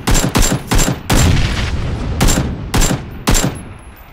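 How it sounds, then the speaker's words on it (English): Rapid bursts of automatic gunfire in a battle royale shooter game, loud and close, coming in repeated volleys with brief gaps between them, no talking. "Bearporn, start shooting."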